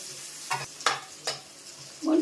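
Sliced bitter gourd fries in hot oil with a soft sizzle, punctuated by three spatula scrapes and a louder stir at the end.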